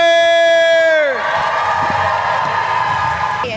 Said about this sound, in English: Please give a huge round of applause for DB Sweeney, Marty Grabstein, Eckstein, Lucie